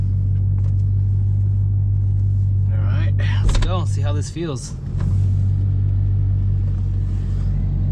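A Dodge Charger SRT8 tuned with a Diablo tuner, heard from inside the cabin as it sets off on a drive: a constant deep engine rumble and drone throughout, with someone talking over it.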